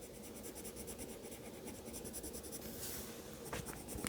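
Colored pencil shading a second layer of Spanish orange onto paper, a steady, soft, close scratching of lead on the page with brief lifts and shifts of the pencil and no talking.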